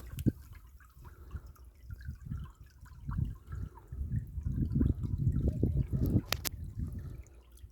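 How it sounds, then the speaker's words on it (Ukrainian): Water trickling and dripping from a natural spring on a cold day, with small, irregular splashes close by that grow busier toward the end, and no talking. "джерло тече, водичка тече"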